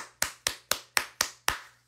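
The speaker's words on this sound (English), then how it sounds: "We're clapping." Six sharp, evenly spaced claps in a quick steady rhythm, crisp and close, with nothing else heard.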